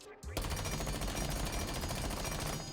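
Sustained automatic fire from a Rainbow Six Siege weapon fitted with an extended barrel, a loud, close, continuous rattle of rapid shots starting abruptly and running to the end without pause.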